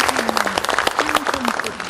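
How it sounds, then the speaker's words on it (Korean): Applause from party lawmakers at a Democratic Party caucus meeting in the Korean National Assembly, brief clapping with voices talking over it. "다시 한번 큰 박수 좀 부탁을 드리겠습니다."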